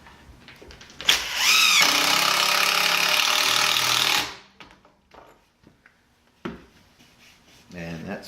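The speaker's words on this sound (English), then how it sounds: "we're gonna try to get all these screws put in here" Power drill driving screws into a DIY countertop, a steady loud whir lasting about three seconds that winds down, followed by a short second burst, with brief talk in between.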